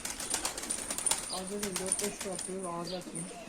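Mardin game pigeons, young birds, flying in and landing nearby, with steady wing flapping and soft cooing over a constant background hiss, while someone talks throughout.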